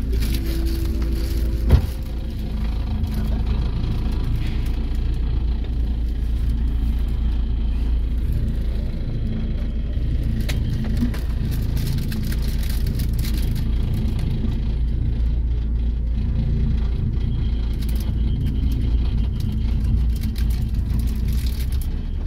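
Inside a PO Sinar Jaya double-decker bus on the road from Jakarta to Yogyakarta, a deep, steady engine and road rumble drones on without a break, loud and close.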